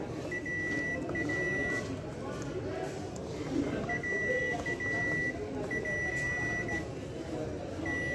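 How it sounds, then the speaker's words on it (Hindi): A Japanese three-burner stove's oven timer gives repeated short, steady beeps in spaced bursts, heard over constant background noise with someone talking throughout. "और ये ओवन का टाइमर हो गया है।"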